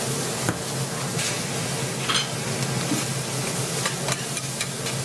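Teppanyaki cooking on an iron griddle at a Japanese standing bar, a steady loud sizzle with occasional scraping and metallic taps of spatulas, continuous and close.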